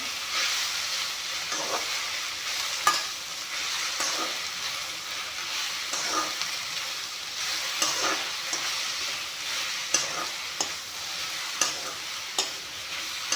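Mechka tenga greens fry in a pan with a steady, close sizzle, broken every second or two by soft stirring scrapes; no one speaks.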